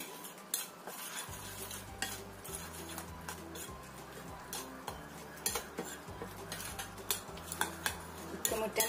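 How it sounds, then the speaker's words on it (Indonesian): A spoon stirs snack batter of oil and a single egg in a bowl, giving a steady run of scraping, clinking strokes against the side, close and fairly loud, with a low hum underneath. "Kita aduk lagi."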